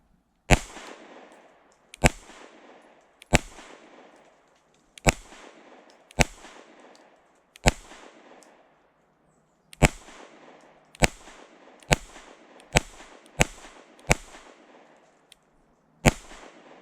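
Sharp pistol shots from a ported CZ P-10C ring out one at a time with uneven pauses, about fourteen loud cracks spread across the stretch, each followed by a short decaying echo.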